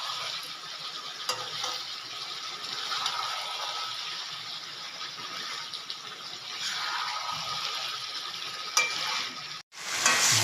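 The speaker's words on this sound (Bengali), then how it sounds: "আলু ভাজাগুলো এবার আমি মাংসের মধ্যে দিয়ে একসাথে কষাবো" Fried potatoes stirred into chicken in a pan for chicken kosha give a continuous moist sizzle with scraping stirs, a brief clatter near the end and a short break before it resumes.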